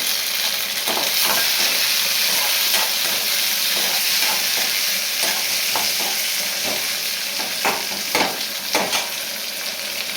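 Tomatoes and four or five dried red chillies sauté in a pan for a Tamil lablab bean kootu, a loud, close, continuous hissing sizzle broken by repeated scraping stirs of a spoon, with no voices.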